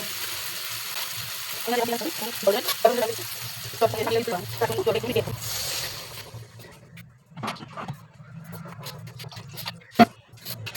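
Masala spice paste frying in oil for a raw banana kofta curry, a steady sizzle with stirring scrapes, louder in the first half, then quieter with scattered clinks and one sharp knock near the end.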